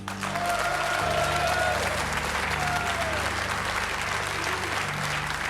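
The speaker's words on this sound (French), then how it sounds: "on vous applaudit" Studio audience applause on a French television game show, a steady wash of clapping held evenly at moderate level from start to finish, with a low background hum beneath.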